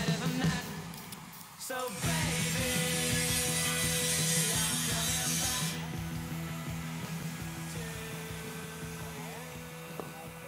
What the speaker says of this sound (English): You can hear Tommy with the grinder behind us